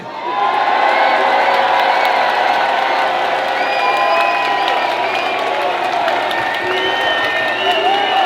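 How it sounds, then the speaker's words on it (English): A loud crowd at an outdoor rally in London roars and applauds, with cheers, whoops and shouting voices rising over sustained clapping for several seconds. "So right now, for 60 seconds, I want the loudest roars and a round of applause to Elon Musk."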